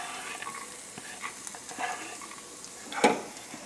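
Celery, carrots and onion sweat quietly in a pan for a glaze, giving a soft, low sizzle with a few light stirring clicks and one louder knock near the end, without any talk.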